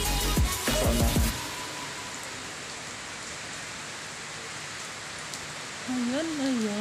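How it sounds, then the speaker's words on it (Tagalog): A brief clatter, then steady heavy rain hisses evenly over a hotel swimming pool in Leyte. A voice speaks briefly at the end. "Ang lakas ng ulan dito"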